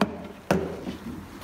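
A hammer strikes wooden pieces being fixed together to build a small homemade wooden training machine, giving one sharp knock at the start and a second solid blow midway, each followed by a brief ring.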